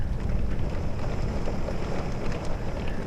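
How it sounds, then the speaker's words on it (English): Heavy rain pours steadily during a lightning storm, a dense, continuous roar close to the microphone with some wind buffeting and no voices. "Now the rain's coming down."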